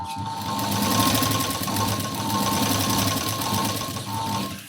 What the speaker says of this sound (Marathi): आणि अशी शिलाई द्यायची पहा